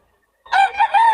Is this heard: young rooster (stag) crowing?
yes